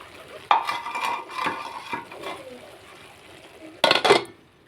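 Spatula scraping and clinking against a pan while spinach, potato and tomato curry is stirred over low heat, a few sharp metallic knocks between softer scrapes, close and moderately loud.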